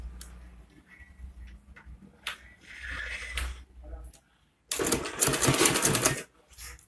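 Sewing machine stitching around a flat cap made of Ankara fabric, its rapid mechanical ticking running in short bursts, a louder, denser run of stitching near the end, with quiet handling noises in the pauses.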